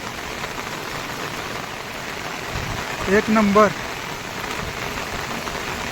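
Heavy monsoon rain pours down steadily in a flooded village near Bhiwandi, a dense continuous hiss, with someone briefly speaking partway through.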